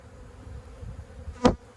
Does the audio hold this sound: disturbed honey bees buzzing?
yes